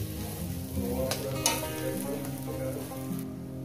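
Steady, even sizzle of a stuffed ridge gourd (chichinga) with coconut filling frying gently in a pan over low heat, close and continuous without pause, with a couple of faint soft clinks partway through.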